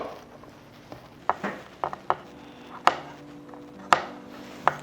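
A knife chops vegetables on a cutting board while prepping for spicy-sweet bibim noodles (bibim-guksu), a series of sharp, separate thuds at an uneven pace, close and fairly loud against a quiet kitchen.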